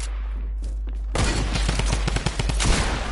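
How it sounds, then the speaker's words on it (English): A drum gun in a video game fires a rapid, sustained burst of close, punchy shots, rattling on steadily after a brief quieter lead-in with a few isolated clicks. "Drum gun's mad."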